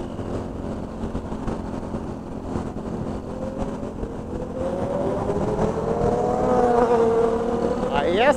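A four-stroke motorcycle engine idles with a steady low hum, then revs up from midway, its pitch climbing and growing louder toward the end.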